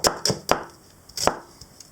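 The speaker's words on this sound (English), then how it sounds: "Just chop up the onion." An onion being chopped with a knife on a cutting board, about five sharp, close knocks spaced unevenly with quieter taps between, no talking.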